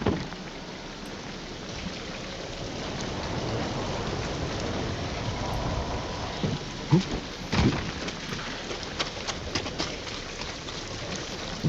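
Steady rainfall at night in the samurai video game Ghost of Tsushima, a dense continuous patter with a few low rumbles of thunder and scattered louder drops, no talking.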